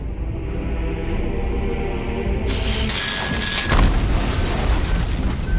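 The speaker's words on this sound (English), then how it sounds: "the Death Star boasted the most powerful laser ever built, capable of destroying a planet" Star Wars Death Star superlaser blast destroying a planet, shown with a small scale model: a loud boom bursts in midway over a steady rumbling bed, followed by a crackling, debris-like tail.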